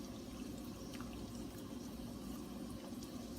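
Pasta cooking water pouring out as the pasta is drained, a soft continuous gush and splash of water that stays steady and fairly quiet throughout, with no voices.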